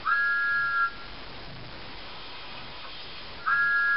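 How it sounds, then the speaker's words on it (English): A loud, steady steam whistle sounds twice, a long blast at the start and another near the end, with a quiet hiss in between. "He blew his whistle very loudly."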